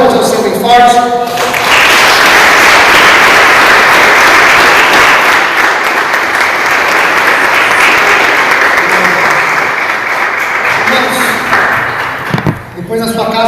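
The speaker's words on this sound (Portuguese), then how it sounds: "Você pode aplaudir o Senhor bem forte?" A church congregation in Botucatu, Brazil applauds loudly during a worship service, a broad sustained burst of clapping lasting about ten seconds, with a preacher's voice just before and after it.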